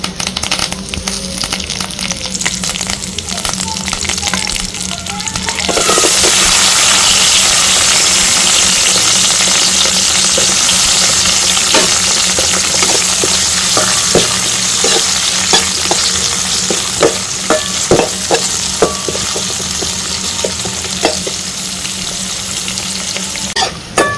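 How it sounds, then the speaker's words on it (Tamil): Mustard seeds, dal, curry leaves and onion hit hot oil in a cooking vessel, first a lighter crackle, then a loud, close, steady sizzle with scattered sharp pops and the scrape of stirring, no talking. "ஒரு பாத்திரத்தில் தேவையான அளவு எண்ணெயை சேர்த்து அதோட கடுகுண்டு பருப்பு, கருவேப்பிலை, வெங்காயத்தை போட்டு நல்லா வேக வச்சுருங்க."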